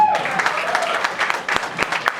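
An audience at a Hindi film trailer launch breaks into sustained applause, a dense, even clatter of many hands clapping that continues throughout, with a faint voice in the background.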